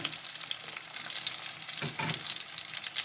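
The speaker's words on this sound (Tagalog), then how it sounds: "Gigisa natin yung sibuyas. Ayan, nailagay ko na yung sibuyas. Igigisa muna natin." Onions sautéing in a hot pan, a steady close sizzle and crackle with a couple of brief stirring scrapes near the end, no talk.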